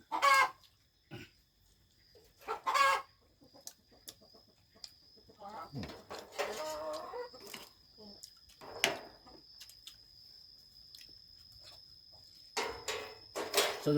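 Chickens clucking in short, scattered bursts, with a steady high-pitched whine running underneath.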